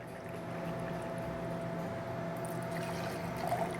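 Cognac pours for a Sazerac cocktail as a steady liquid stream, close and continuous with a soft gurgle near the end.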